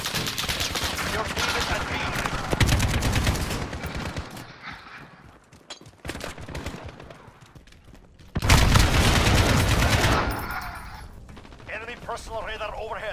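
Sustained automatic gunfire from the Call of Duty Modern Warfare video game roars in loud bursts, dropping away briefly before another intense volley, with in-game voice announcements in between.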